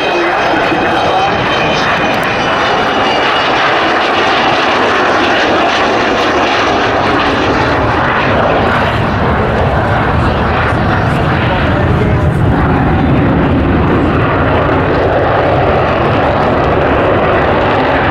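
The Avro Vulcan XH558 jet bomber roars past at an RAF Cosford air display, a loud sustained engine rumble that swells and holds throughout, with a commentator talking over it.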